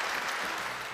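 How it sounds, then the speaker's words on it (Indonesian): Audience applause at a televised anti-corruption talk show, a brief, fairly faint wash of clapping that holds steady and begins to fade at the end. "tepuk tangan sekali lagi dong"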